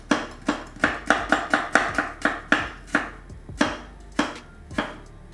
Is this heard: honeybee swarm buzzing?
no